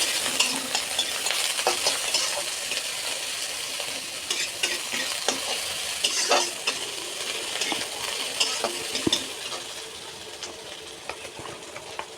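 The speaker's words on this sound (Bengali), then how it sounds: "শুকনো লঙ্কা একটা দিয়ে দিলাম, কালো জিরে দিয়ে দিলাম, পেঁয়াজটা দিয়ে দিলাম। ভালো করে নেড়ে নেব।" Onion, one dry red chilli and nigella seeds sizzle steadily in hot oil in a frying pan, a spatula scraping and stirring through them in irregular clinks and scrapes, close and continuous without talk.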